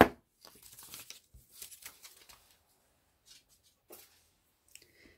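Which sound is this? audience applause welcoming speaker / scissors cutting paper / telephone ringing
scissors cutting paper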